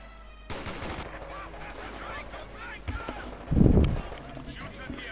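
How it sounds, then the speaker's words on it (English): Heavy .50 caliber machine guns in Company of Heroes 2 rattle through a 1v1 match, with a louder burst late on and other battle noise throughout, while a caster's voice talks over it. "those 50 calibers are making freedom of movement for Jove's troops a lot more difficult"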